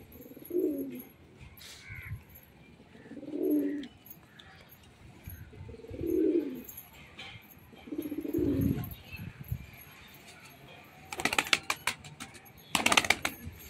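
Siraji pigeons give soft, low coos at close range, about four evenly spaced calls, followed by a few sharp rustling bursts near the end.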